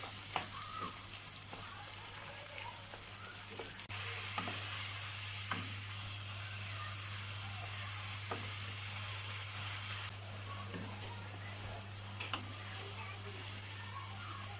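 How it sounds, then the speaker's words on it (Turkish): Minced meat sizzles and fries steadily with onions in a pan, a continuous close crackle with occasional scraping stirs throughout. "Şimdi kıymamı da ekliyorum. Güzelce kavuralım."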